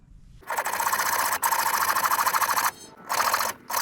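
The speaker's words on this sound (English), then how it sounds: "I'll just use a hacksaw" A hacksaw cuts metal on a Chevy Cobalt in a few long, steady back-and-forth rasping stretches broken by short pauses, close and fairly loud with no talking.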